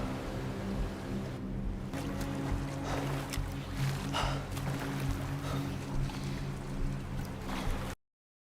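Boats speeding across open sea in a drama-series chase, heard as a rushing mix of engine drone, churning water and splashing waves, continuous and fairly loud.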